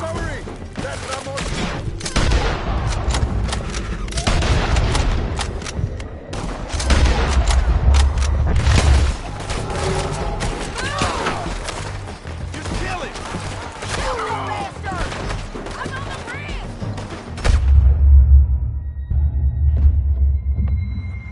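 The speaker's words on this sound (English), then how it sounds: "Artillery!" Artillery and rapid gunfire boom through a Red Dead Redemption battle, heavy low thuds and rumbling blasts layered with crackling shots, loud and sustained throughout with shouting voices mixed in.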